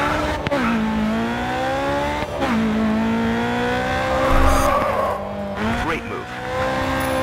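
Race car drifting in Grid 2 at Haruna Kyojin, Hong Kong: a steady engine drone with shifting pitch, punctuated by tire squeal and brief sharp skids, while a voice speaks over the action.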